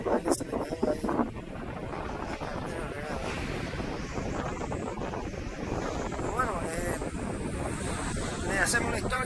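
Wind buffets the microphone and ocean surf rolls in at Lake Worth beach at sunset, a steady rushing noise with gusts throughout and voices speaking faintly under it.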